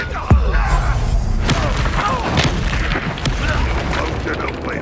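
Confringo fire-spell blasts in Hogwarts Legacy combat: loud booming bursts land every second or so over a dense, continuous wash of battle noise and music.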